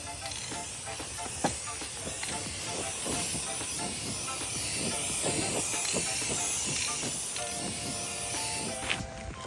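A Rust-Oleum spray can hisses continuously while paint-matched coating goes onto bumper parts for a wrecked 2020 C8 Corvette Z51, a steady close spray broken by faint taps and rattles.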